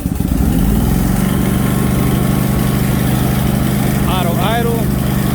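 Engine of a welder mounted on a rig starting up and settling into a loud, steady close-range idle, with a brief voice over the running engine.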